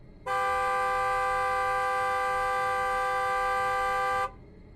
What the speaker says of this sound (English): Then suddenly, the car horn blasts.